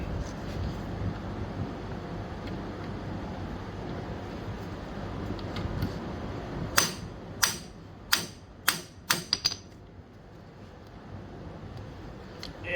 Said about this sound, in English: I have a little vessel impact screwdriver there to GIS tip. Let's see if we can get this thing off here without stripping it.